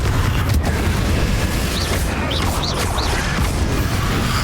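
Fire and blast spells in Hogwarts Legacy, a dense continuous roar of booming magical explosions with rumbling low end, loud and close throughout, with faint whooshing tones rising above.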